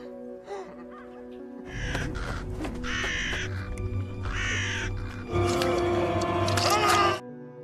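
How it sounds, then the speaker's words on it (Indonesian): Crows caw harshly in a horror film scene where fish guts have been smeared on a man's face to attract them, with several loud caws rising over a tense, droning soundtrack and a thick burst of commotion near the end. "agar burung gagak datang dan menggerogoti Stanley."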